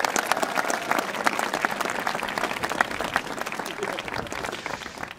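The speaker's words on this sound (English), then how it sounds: "Let's give them a round of applause." A commencement ceremony audience gives graduating students a round of applause. Dense, continuous clapping from a large crowd holds steady for about five seconds and fades slightly at the end.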